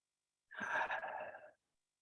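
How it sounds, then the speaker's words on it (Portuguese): One person takes a single deep breath during a guided meditation, a soft, airy sigh-like breath of about one second set against silence. "Respiração profunda."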